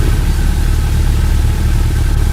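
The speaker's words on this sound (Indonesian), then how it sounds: "setelah itu mesin motor kembali menyala" A motorbike engine runs with a loud, steady, low rumble that holds even throughout, with no clear start-up burst.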